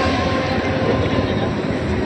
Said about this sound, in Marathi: हे बघा ट्रेन चालली